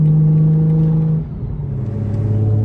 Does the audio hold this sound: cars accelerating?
yes